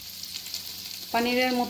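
Diced potatoes and a slit green chilli frying in oil with a nigella seed tempering: a faint hiss at first, then a sudden, loud, bright sizzle as the pan flares up, sustained to the end with no talking.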